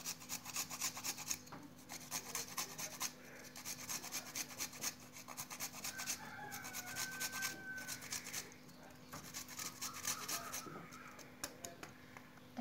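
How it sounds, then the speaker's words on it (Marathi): Fresh ginger being grated for ginger tea made with water, tea powder and sugar, a steady rhythmic rasping scrape that runs continuously at close range, with faint voices intermittently underneath. "त्यात आलं किसून टाकायचं."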